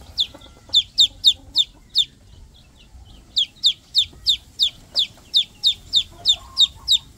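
Young Rhode Island Red chicks giving rapid, high-pitched chirps in regular bursts, close and clear, with a brief pause before the chirping resumes.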